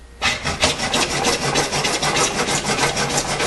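Hand saw drawn back and forth through pipe held in a miter box, a steady rhythmic rasping of close, loud strokes with no talk.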